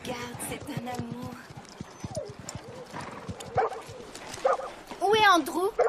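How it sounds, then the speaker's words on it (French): A dog barks a few times, with yips and whimpers, under close talking, with light clopping sounds nearby. "Andrew, c'est un chien."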